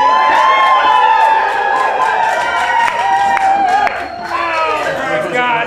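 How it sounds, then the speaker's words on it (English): A live audience acts as a big excited crowd in an assembly hall, a loud din of cheering, whoops and shouting voices with a few claps, close and continuous. "So I would like you all to play the part of a big excited crowd."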